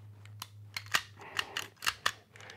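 A magazine slides into a Taran Tactical Sand Viper pistol, heard as a handful of sharp metallic clicks and snaps spaced irregularly over a couple of seconds, close and fairly quiet over a low steady hum.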